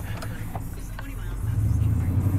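A truck engine runs steadily in four-wheel drive on a muddy track, its low rumble building and growing louder toward the end, close and continuous.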